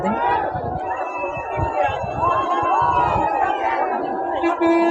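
Large crowd gathered at a Santali village festival for Buru Bonga at Kanhaiswar, a dense hubbub of many voices with shouts and chatter throughout, close and steady.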